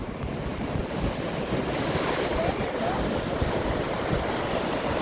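Ocean surf rolls in near the Phare des Baleines lighthouse on Île de Ré, a continuous broad wash of waves mixed with heavy wind buffeting the microphone.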